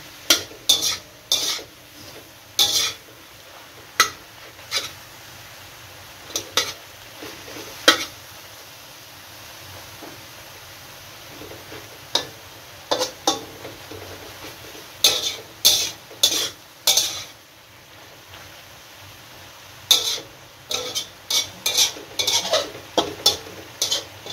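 Meat is stirred as it cooks well done in a pan. Clustered metallic clicks and scrapes of the utensil come in irregular bursts over a quiet background sizzle.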